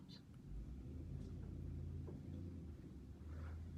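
A car with engine trouble outside makes a low, continuous rumbling drone, fairly faint and muffled as if heard from indoors, holding steady for several seconds with slight swells in loudness.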